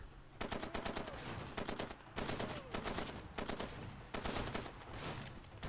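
Sustained bursts of automatic gunfire from the video game Far Cry 2, several loud rapid volleys separated by brief pauses, with no voices over them.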